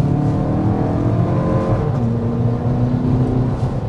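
A 2024 Toyota Crown Platinum drives in Sport Plus mode with enhanced throttle response, its engine producing a steady, moderately loud hum and whir heard from inside the car, with no talking.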